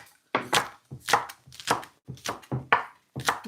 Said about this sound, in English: I'll chop some green onion here.